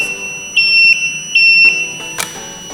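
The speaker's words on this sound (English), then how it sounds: "So that is an active buzzer" An active buzzer wired to an Arduino gives shrill, steady electronic beeps, two clear pulses close up, followed by a click and softer tone.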